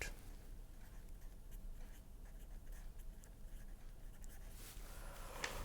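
A pen writes by hand across a surface during a lecture, giving a steady close scratching texture over a constant low hum, with no talking.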